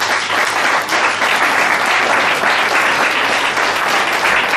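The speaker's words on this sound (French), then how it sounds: "on peut l'applaudir pour lui." Spectators at an improvised hypnosis show applaud a volunteer just woken from trance, a loud, full crowd ovation of many hands that stays sustained and dense throughout.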